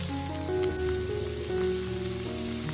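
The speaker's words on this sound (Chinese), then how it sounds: "然后继续开大火煮开" Bullfrog pieces boil hard with a bottle of beer over high heat, a steady close bubbling and sizzling with no voices, holding even and dense throughout.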